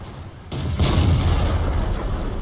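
A single heavy tank cannon shot in World of Tanks, a deep booming blast that rolls out and lingers under constant engine rumble, close and loud.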